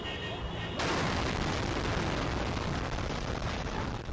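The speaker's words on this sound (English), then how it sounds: "A string of explosions that year took hundreds of lives" Explosions in Baghdad in 2009 come through as a dense, continuous roar and crackle of blasts at high loudness, with a voice underneath at the start.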